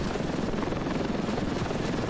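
Military helicopter flying in the video game Ravenfield, a close steady rotor chop and engine drone holding at constant loudness for a couple of seconds, with no speech.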